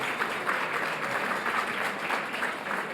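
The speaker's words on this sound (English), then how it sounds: "Let's give another round of applause to Alexandra." An audience at an alumni achievement awards event applauds an honoree, even, continuous clapping of moderate loudness that holds steady for the full few seconds without speech.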